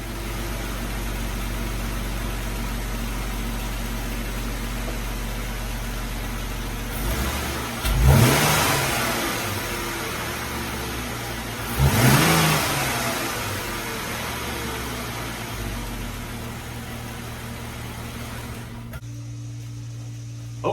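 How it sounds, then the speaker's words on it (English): Jeep JK with its stock air intake idles in a steady low rumble, then gets two sharp revs that swell and fall back before the engine shuts off near the end. "let me start this thing up and give you a couple revs, and you can hear what it sounds like stock"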